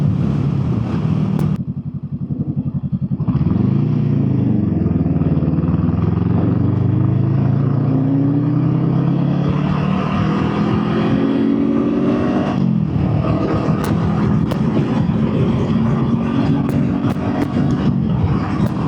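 Honda Rebel 500 motorcycle fitted with a modified aftermarket exhaust, idling then revving up in a long rising pull that holds a loud, rumbling drone, then settling back; close and continuous with no talk.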